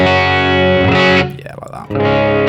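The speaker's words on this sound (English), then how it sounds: "My dirty tone." Dirty, distorted electric guitar run through a Nano Cortex modeler, played in sustained chords loudly, dropping to a brief quieter picked passage before the full chord returns.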